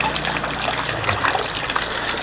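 Rainwater gushing from a single spout during light rain, a steady loud splashing pour close by with no break.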